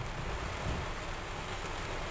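Heavy rain beats down in a steady, dense hiss during a flood at a racing field in Thailand. It fills the whole short stretch evenly, with no voices over it.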